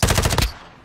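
Rapid automatic gunfire from a video game firearm, a loud continuous burst of closely spaced shots lasting about half a second before cutting off into a faint tail.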